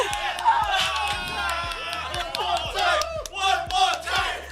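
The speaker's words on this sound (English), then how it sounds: "The crowd is raving" A large crowd at a mobile esports finals group stage cheers and chants in a steady rhythmic pulse, loud and dense, with voices shouting throughout and a regular thumping beat underneath.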